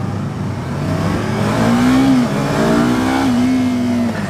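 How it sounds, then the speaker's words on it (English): A 2015 Yamaha R3 parallel twin engine pulls hard through its revs, a loud, steady, smooth drone rising and falling in pitch across a few seconds, with no talk over it. "Now the engine is very smooth in this machine. For a parallel twin, extremely smooth."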